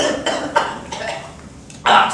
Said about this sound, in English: That's just my cough which comes back from time to time.